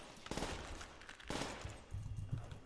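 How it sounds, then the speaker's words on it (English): A PPSh submachine gun fires in rapid bursts in Call of Duty's Shi no Numa zombies map, with rattling automatic gunfire in two or three clustered volleys and low rumbling game sounds between them. "the first time I've ever used the PPSH"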